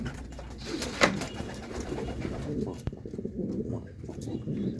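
Pigeons kept in a coop for meat breeding coo softly and shift about, with a sharper flutter or knock near the start, under a steady low murmur of birds close by.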